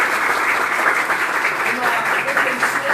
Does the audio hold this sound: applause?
yes